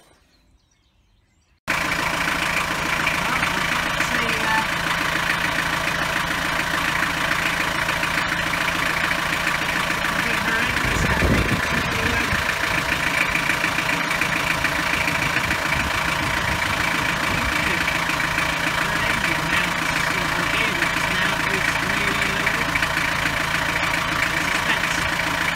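A motorhome engine starts after a moment of quiet and settles into a steady idle that runs on evenly for over twenty seconds, with no voices.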